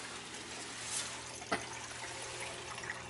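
Water drains steadily out of a garden hose while antifreeze is flushed from a house's winterized plumbing, a faint, continuous trickle and hiss with a couple of small splashes.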